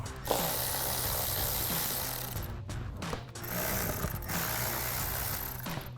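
A ratchet with an extension loosens the 7mm clamp bolts on the air box of a Chevrolet Silverado 2500, giving steady rapid clicking close to the microphone, with a few short pauses.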